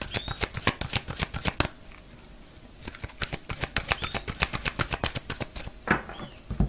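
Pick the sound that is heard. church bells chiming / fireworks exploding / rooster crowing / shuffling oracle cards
shuffling oracle cards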